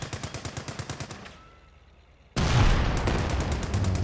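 Rapid machine gun bursts from a Comet tank in a World War II strategy game, a steady rhythmic rattle that fades before a loud, booming cannon shot erupts and keeps rumbling with continued firing.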